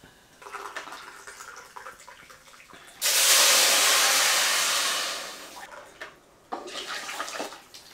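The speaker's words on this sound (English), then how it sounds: "This is where I add my water." Hot water pours into a pot of goat stew in a steady rushing splash lasting about two seconds, then tapers off, with quieter clinks and kitchen handling before and after.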